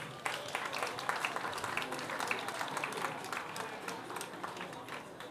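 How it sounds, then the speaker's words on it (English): Applause from an audience at a university congregation ceremony, a steady wash of many hands clapping at moderate distance for graduating students, continuing evenly without talk. "Shall we clap for them?"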